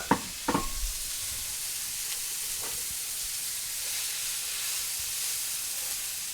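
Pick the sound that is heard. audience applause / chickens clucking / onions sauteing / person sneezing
onions sauteing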